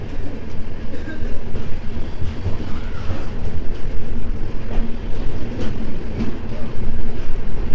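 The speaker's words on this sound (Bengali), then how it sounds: "13 মিনিট দেরিতে আমাদের ট্রেন এনজেপি থেকে যাত্রা শুরু করলো জগন্নাথ ধাম পুরীর" A night train pulling out of New Jalpaiguri (NJP) station bound for Puri gives a continuous, loud rumbling and rattling with a steady mechanical roar and occasional knocks.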